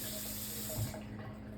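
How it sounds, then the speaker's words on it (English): Water runs from a tap in a bath house with a faint, steady splashing flow; the hiss eases about midway through. "leave the water running"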